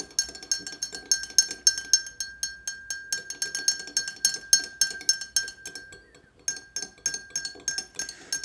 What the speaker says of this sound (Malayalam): നമ്മൾ സ്പൂൺ വെച്ച് നന്നായിട്ടൊന്ന് മിക്സ് ചെയ്യണം.